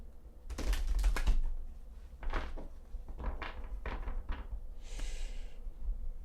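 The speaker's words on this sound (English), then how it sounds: "I'm going to shuffle one time and then" A deck of tarot cards being shuffled makes bursts of quick clicking riffles and taps, close and fairly loud, separated by short pauses, with a softer rustle at the end.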